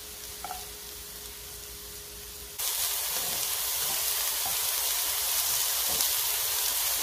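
King oyster mushroom slices hit hot oil in a wok over medium-high heat. A quiet moment gives way to a sudden, loud, continuous sizzle that holds steady to the end.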